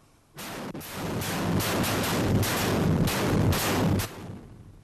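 Construction blasting explosion: a sudden loud blast followed by a sustained rumbling roar of debris and rolling echoes lasting several seconds before dropping off, with no voices.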